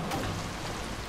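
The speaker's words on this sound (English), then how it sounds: "it's raining, it's pouring" Steady, moderate rain patters continuously in a video game, an even hiss with no pauses or talk.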